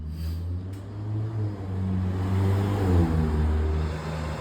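Kawasaki KLX450R motorcycle engine idling steadily with a low harmonic drone, while a faint electric cooling fan whirs on in the background for a moment.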